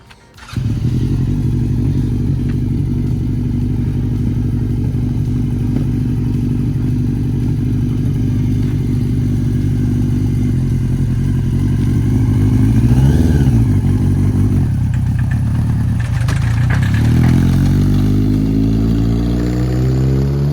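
A modified golf cart's small engine runs loud and close, a steady buzzing drone that rises with a rev near the middle and shifts pitch as it drives off, with no talking.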